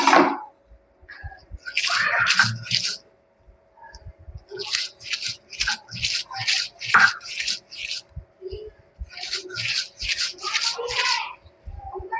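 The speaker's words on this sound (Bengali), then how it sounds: "আমি এভাবে সবটুকুনি বেটে নেব" Shrimp being ground into a paste on a stone grinding slab for chingri vorta, a Bengali shrimp mash, with close, rhythmic rubbing and scraping strokes in repeated bursts and no talking.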